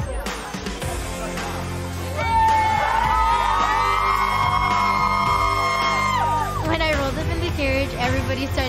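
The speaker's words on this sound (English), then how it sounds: "Everybody started cheering for me." A crowd cheers loudly for a quinceañera girl arriving in a carriage at her quince, with whoops and sustained high yells rising over chatter, then settling back into mixed voices.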